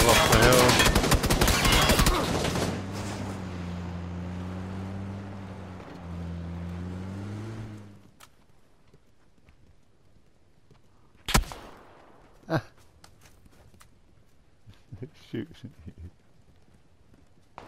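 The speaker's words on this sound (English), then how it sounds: "He's shooting at me." Gunfire in PUBG on a hill: a few sharp distant shots crack out one at a time against near silence, after a loud rumbling vehicle engine fades, with a voice talking at times.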